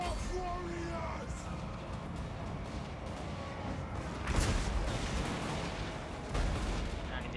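Dwarf artillery booms and gunfire in a Total War: Warhammer battle, heard as a few heavy blasts over a constant din of battle noise and crowd babble, with spoken voices mixed in.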